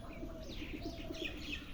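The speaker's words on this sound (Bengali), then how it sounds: "এই যে কবুতর, আমার বড় আম্মুর কবুতর।" Pigeons at home coo in soft, repeated low calls, close and gentle, with faint chirps and a light rustle in the background.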